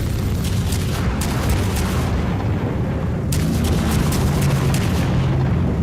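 Tank cannon fire in a video game: heavy booming blasts sit inside a continuous loud, low rumble, with two sharper bursts standing out from the roar.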